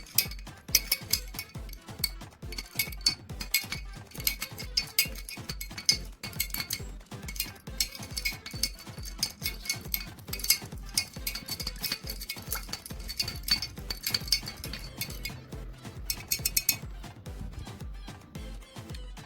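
Spoon stirring a rum drink in a glass, clinking against the sides in quick, irregular metallic taps that run on for nearly twenty seconds, close and fairly quiet.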